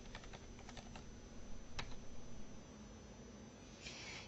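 Password keys tapped on a computer keyboard in a short, quick burst of clicks followed by a single firmer keystroke, then quiet room tone with faint background hiss.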